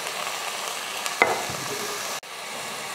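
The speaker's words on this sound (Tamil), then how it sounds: "அதுக்காக இந்த மாதிரி எண்ணெயில் போட்டு நல்லா வதக்கிக்கோங்க." Tomatoes and elephant yam frying in hot oil give a steady, close sizzle with a sharp stirring scrape partway through and a brief clatter near the end, no voices.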